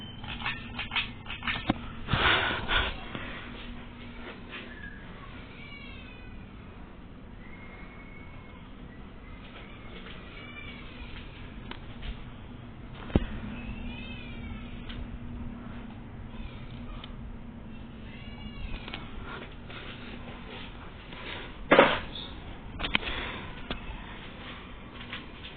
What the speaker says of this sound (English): the fan is making cranky noise.